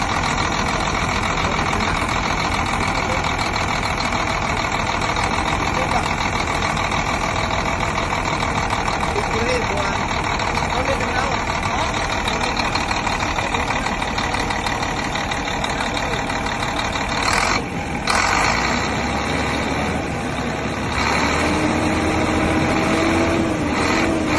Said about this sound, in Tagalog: power na yung makina with high engine